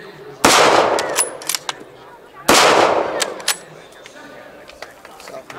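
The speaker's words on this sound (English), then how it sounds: "The rounds are pushed into the breech, the bolt is closed, fire in the hole! Fire in the hole!" Two loud, sharp rifle shots about two seconds apart from a WWII bolt-action small arms demonstration at an outdoor armor museum encampment, each followed by a long ringing echo tail, with faint crowd noise between.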